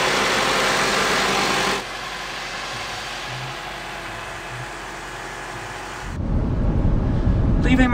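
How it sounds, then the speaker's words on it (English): A car engine hums low and steady from inside the cabin while driving around to recharge a dead battery. The drone continues under quieter stretches and grows louder and rougher near the end. "So I'm driving around just trying to get my battery charged up a little bit right now."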